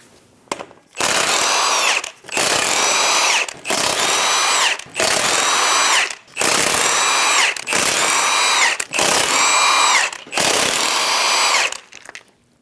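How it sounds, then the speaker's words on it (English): Impact wrench spinning off the eight lug nuts on a Chevrolet Express 2500 front wheel with a 22mm socket: eight loud, close, rattling bursts of about one second each, separated by short pauses. "remove the 8 lug nuts."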